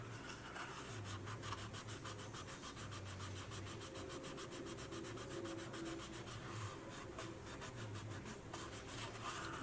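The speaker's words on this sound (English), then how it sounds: "And I just kind of go around and rub where the tabs are." Steady, close scratchy rubbing as fingers work along the paper tabs of a 3D paper snowman model, a continuous dry friction with a faint rhythmic texture and no talking.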